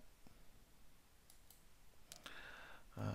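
Faint, quiet mouse clicks come in a few sparse taps, then a slightly louder pair near the end, while plotting points with the Pen Tool in After Effects on a computer.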